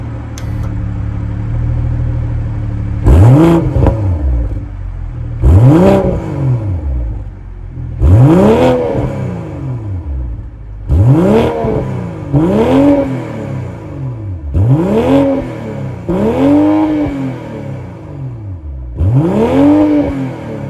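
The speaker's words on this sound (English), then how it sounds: "that was the sound of the B58 3-liter inline six-cylinder turbo sold by BMW" BMW M440i convertible (2024) with a B58 3-liter inline-six turbo and M Performance exhaust is revved in repeated sharp bursts, about seven rises and falls, each climbing quickly then dropping back to a close idle.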